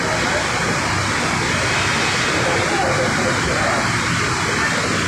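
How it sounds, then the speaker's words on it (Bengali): Sugarcane juice boils inside a heated furnace vessel at a sugar mill, making a dense, steady roar of bubbling and rushing noise that fills the space without a break. "দেখতে পাচ্ছেন ওর ভিতরে টকবক করে জ্বলতেছে।"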